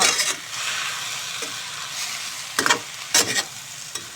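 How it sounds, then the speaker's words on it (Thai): Water spinach stir-fried in a wok, a broad steady sizzle with bursts of scraping and tossing strokes from a spatula, close and fairly loud with no voices. "ผัดผักุ้งให้ยุบก่อนค่อยปรุงนะคะ"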